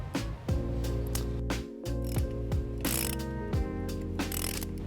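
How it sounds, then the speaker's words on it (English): A hand ratchet with a 12mm socket clicks through repeated quick strokes, loosening the positive battery terminal nut on a 2013 Nissan Sentra, the sharp pawl clicks close and steady with brief pauses. "Now we're going to take a 12mm socket and remove the positive terminal nut."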